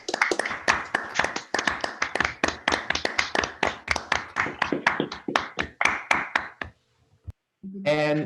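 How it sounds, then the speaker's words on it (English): Online seminar audience claps over unmuted microphones, a dense run of sharp, rapid hand claps lasting several seconds before fading, followed by a brief burst of voice. "So you're very welcome to unmute yourself and clap."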